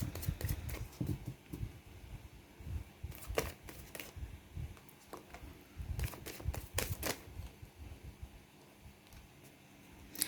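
A tarot deck is shuffled by hand in quick, uneven bursts of soft riffling and tapping that come close and fairly quiet, with brief pauses between handfuls of cards.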